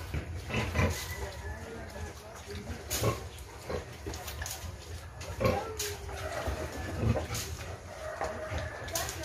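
Pigs being fed on a farm, a series of low grunts and snorts recurring every couple of seconds at close range over steady barn noise, with some faint voices.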